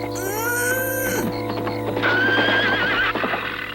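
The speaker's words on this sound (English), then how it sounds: "That horse whinny sounds like it's coming from where Oscar's being kept." A horse whinnies twice, loud and shrill with quavering tails, over a steady low background hum and some clattering.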